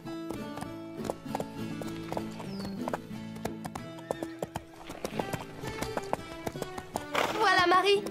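Hooves clip-clop under a ridden horse in an animated show, with neighing and a busy musical score layered over the steady tapping of the hooves.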